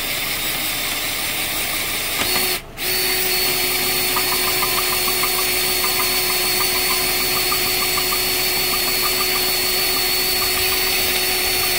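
A power drill works steadily on a seized lug on a car wheel with a spinning stud, a continuous mechanical whine with a brief pause, then resumes with a faint rattling chatter.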